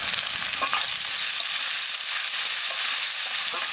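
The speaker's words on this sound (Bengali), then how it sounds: "পেঁয়াজটা একটু লাল লাল করে ভেজে নিলাম" Onion fries in hot oil with cumin, dried chilli, bay leaf and garlic, a continuous close sizzle with light stirring scrapes running through it, steady and unbroken, no one talking.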